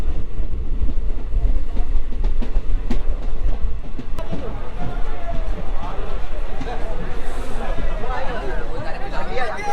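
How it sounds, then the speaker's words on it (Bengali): A passenger train running out of Krishnanagar toward Dhubulia rumbles and clatters steadily throughout, its wheels and carriages heard close up with a continuous rattle, while voices murmur in the carriage. "তো আমাদের ট্রেন কৃষ্ণনগর থেকে ছেড়ে এখন চলে আসলো আমাদের পরবর্তী স্টেশন ধুবুলিয়াতে"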